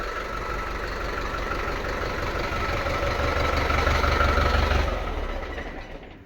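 A YTO 554 cabless tractor's engine idles in a steady, loud, low rumbling drone that holds even and then fades slightly at the end, with no voices.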